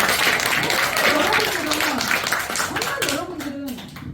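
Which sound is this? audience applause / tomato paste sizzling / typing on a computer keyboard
audience applause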